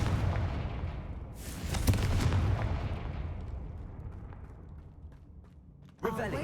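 A Confringo blasting spell goes off in a wizard video game: a loud explosive boom with a long, slowly fading rumble, then a second sharp burst near the end.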